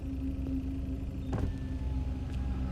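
A car halted at a late-night roadside police checkpoint idles with a steady low engine rumble, and a brief electric window motor whirs partway through; no one speaks.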